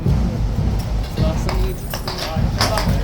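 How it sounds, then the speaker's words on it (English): Hooves of a guard horse clip-clop as it runs off among a crowd of onlookers, several sharp strikes over steady crowd noise and talk nearby. "Horse is actually running off. He's running off."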